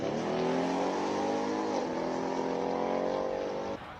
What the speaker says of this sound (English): Okay, here we go. Mustang Mach 1,